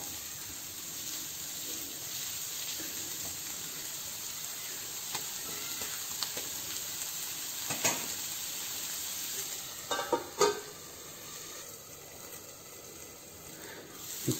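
Pomfret fish frying on a tawa gives a steady, close sizzle and hiss throughout, with a few brief clattery bursts of stirring or handling near the end.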